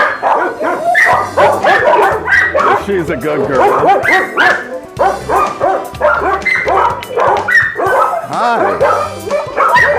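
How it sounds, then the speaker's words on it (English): A Dalmatian mix and other dogs bark and yip continuously at an animal shelter, loud, close and overlapping, while a person speaks briefly over the din. "our little Dalmatian mix from last time is the one that started all the barking"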